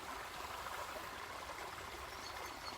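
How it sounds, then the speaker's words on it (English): Water flows steadily along a flooded brook swollen with extra water, a constant close rushing wash that stays even and uninterrupted throughout, with no voices. "at the moment it's like a small stream due to the extra water that's coming through"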